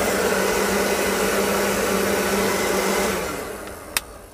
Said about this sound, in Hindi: तो इस टाइप से हमने ये वाला हेयर ड्रायर रिपेयर कर लिया है